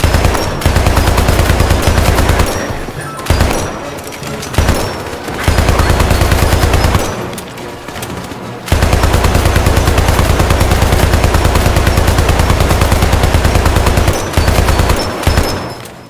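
Gunfire from shooting enemies in a video game, in sustained loud bursts of rapid automatic fire with a few short pauses between long continuous volleys.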